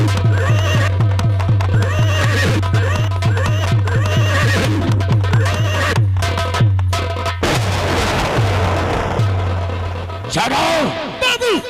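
A king's horse gallops in with a steady, rapid clip-clop of hooves, then whinnies loudly several times near the end, with voices talking over the scene.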